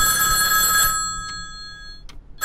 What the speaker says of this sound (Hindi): गेट बंद हो गया और फोन बजा